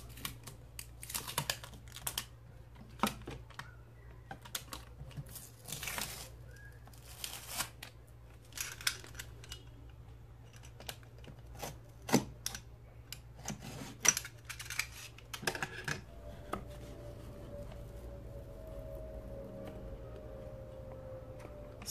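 Samsung Galaxy S7 Edge retail box being unboxed: faint crinkling, rustling and soft clicking handling noises in irregular bursts over a steady low hum, with a thin tone entering near the end.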